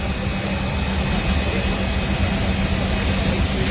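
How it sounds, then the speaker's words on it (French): A Kenya Airways airplane lands at Nairobi, its engines making a steady, loud, broadband roar that fills the whole clip without letting up. "L'avion de Kenya Airways vient de atterrir à Nairobi."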